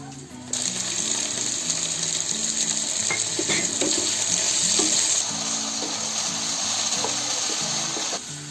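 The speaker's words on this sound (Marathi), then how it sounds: "आता आपण टोमॅटो टाकला ना, असं थोडासा ढवळत राहायचं 1 मिनिट" Tomatoes go into a frying pan and get stirred, giving a steady sizzling hiss with scattered scraping clicks, while someone talks over it and background music plays.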